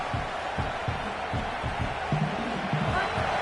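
A football stadium crowd roaring in a steady, distant-sounding wash of noise, with no clear peaks, as a commentator talks over it.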